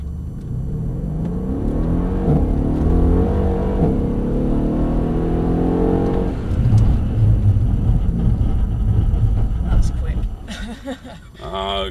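A Mercedes-AMG car at Mercedes-Benz World launching from a standing start, its engine note rising strongly through the revs before a gear change, then roaring on and settling, loud and close from inside the cabin.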